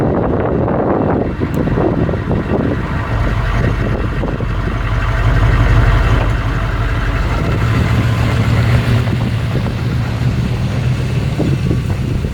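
A U.S. Army HMMWV engine running while driving through the Danish countryside, a loud steady low drone with wind buffeting the microphone, continuous and close, with no talk.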